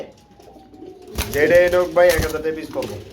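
Danish and racer pigeons cooing close by, a couple of soft throaty coos in quick succession after a quiet start, with faint background noise.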